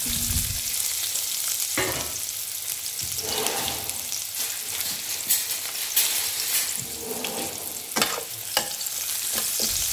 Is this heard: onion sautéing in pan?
yes